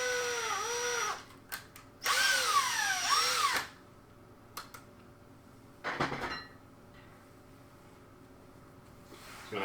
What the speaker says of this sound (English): I'm going to take my drill and we're just going to drill this out.